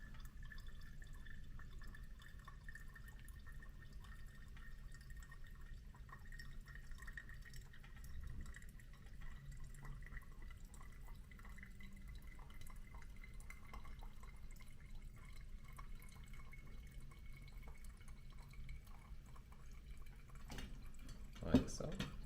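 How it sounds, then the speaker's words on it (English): Water poured slowly and steadily over ground Guatemalan coffee in a Hario V60 pour-over dripper, a soft continuous trickle and drip close by, faint, with a brief clink near the end. "And now I'm pouring all the way to 210 grams of water."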